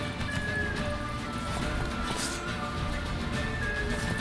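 The horse Roach gallops in the Witcher 3 game, with fast steady hoofbeats close by and constant, mixed with game ambience and occasional tonal sounds.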